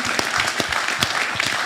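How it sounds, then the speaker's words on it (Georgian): Dense burst of audience clapping at a press conference for a five-time kickboxing champion, loud, close and continuous throughout with sharp overlapping hand claps. "აპლოდისმენტების ღირსია, 5 გზის ჩემპიონი."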